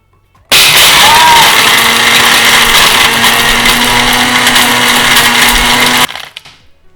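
A cheap blender grinds a load of Jolly Rancher hard candies, its motor starting abruptly into a loud, steady high-pitched whine with rattling crunching underneath for several seconds before cutting off and spinning down.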